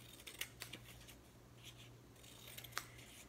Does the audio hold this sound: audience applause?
no